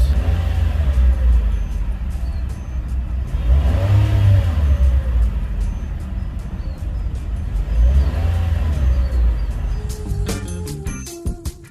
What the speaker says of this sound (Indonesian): menyalakan mesin dan dengarkan suara mesin, terdengar kasar atau tidak.